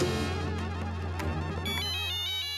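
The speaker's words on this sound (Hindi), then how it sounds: "अय्यर का फोन है।" A mobile phone ringtone plays in a house scene of the Indian sitcom Taarak Mehta Ka Ooltah Chashmah, sounding as a continuous run of bright, melodic electronic tones with no speech.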